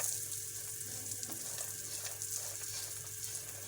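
Dried dates and chopped coconut fry in a pan with a steady, close, bright sizzle and faint stirring clicks, and no one speaks.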